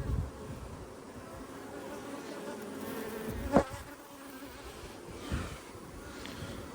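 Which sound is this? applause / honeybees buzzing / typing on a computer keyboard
honeybees buzzing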